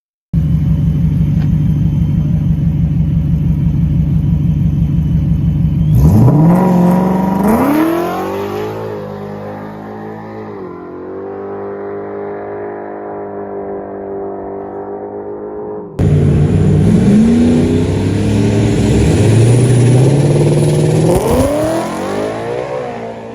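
A 2014 Ford Mustang making over 1,000 horsepower revs hard close by, its deep rumbling idle swelling into a rising rev, dropping back, then climbing in a second loud, sustained rev.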